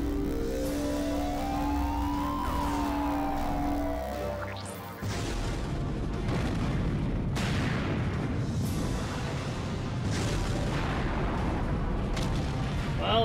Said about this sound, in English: Well, there goes the cannon